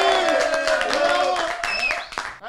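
A small studio group claps and cheers to send off a guest, brisk close claps under overlapping voices and chatter, fading toward the end.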